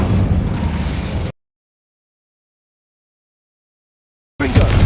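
Incendio fire spell bursting in Hogwarts Legacy, a loud roaring whoosh of flame that cuts to dead silence for about three seconds, then returns with another fiery blast.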